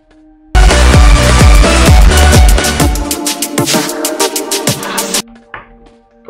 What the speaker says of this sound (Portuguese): nesta aqui fazer é fade in, ou seja, aqui o som vai estar baixo e vai levantar, e aqui fade out